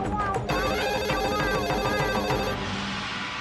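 A telephone rings with a repeated electronic trill in a Hindi TV serial scene, bright and close, while people talk over and around it.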